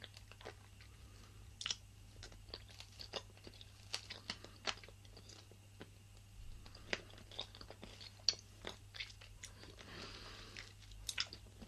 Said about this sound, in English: It's kind of like a chewy type of hard candy.